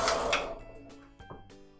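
The carriage of a Silver Reed SK280 knitting machine slides across the needle bed to knit a row, giving a brief close rattling sweep followed by a few lighter clicks and taps.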